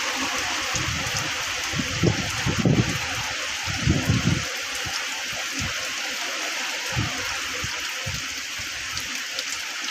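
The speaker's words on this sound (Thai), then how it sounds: "เปียกหมดทุกคนเลย ฝนตก" Rain falls steadily outdoors on a farm field where cattle are grazed, a constant hiss with a few louder thumps and bursts early on, heard alone without talk.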